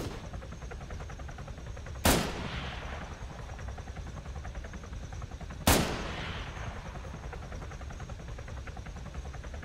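Two sharp video-game gunshots a few seconds apart, each a loud crack with a short fading tail, over a steady low background hum, with no talking.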